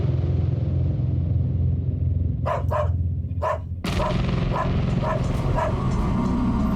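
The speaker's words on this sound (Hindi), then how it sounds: "जिमी भौंक रहा है" A dog named Jimmy barks several times, a quick pair and a single bark followed by a series of sharper yips, loud and near over a steady low background rumble.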